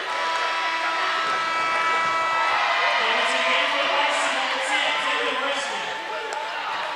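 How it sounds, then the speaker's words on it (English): Crowd reacting at Memorial Hall during a men's college basketball game between Delaware State and Howard, a broad, steady roar of many voices filling the arena over several seconds. "You can hear the reaction of the crowd here at Memorial Hall."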